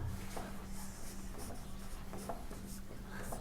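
Pen scratching across paper while a maths solution is written out, a soft continuous rasp with faint stroke accents, close and steady under low background hiss.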